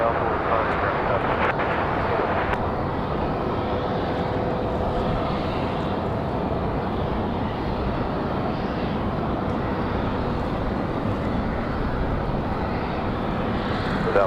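A Southwest airliner taking off from runway 23 left at Raleigh-Durham airport, a loud sustained engine roar that stays steady throughout, with people talking over it.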